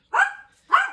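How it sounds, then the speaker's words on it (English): A dog gives two sharp barks close by, with a short gap between them, inside a quiet room. "Excuse my dog."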